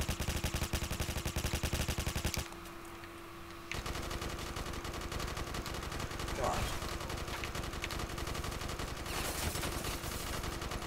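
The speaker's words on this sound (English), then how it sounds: "I can, you know, spazzily shoot zombies without having to care about my ammo." Rapid automatic gunfire from shooting zombies in Black Ops 3 Zombies on a custom meat factory map, dense continuous bursts with a brief lull, then sustained firing.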